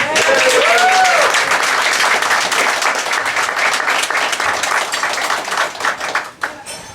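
A banquet crowd at a formal dinner event gives a round of applause for the kitchen and wait staff, loud dense clapping that holds strong for several seconds before thinning out and stopping.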